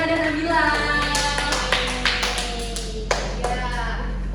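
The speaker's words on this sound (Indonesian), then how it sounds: "Boleh tepuk tangan untuk Diana dan Nabila." A small class claps for two students during a micro-teaching session, a few light, scattered claps over a low steady hum, with a voice talking across them.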